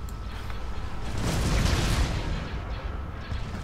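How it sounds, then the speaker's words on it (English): Hypervelocity cannon firing in the Star Wars space strategy game Empire at War: Forces of Corruption during an assault on Coruscant, a loud, continuous rumbling barrage of booming blasts that swells in the middle and lingers without speech. "Attack formation. Hypervelocity cannon firing."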